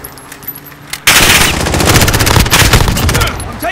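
Sustained heavy gunfire from a gunship in the Modern Warfare video game bursts in loudly after a second of near quiet, then rattles on in dense, continuous volleys.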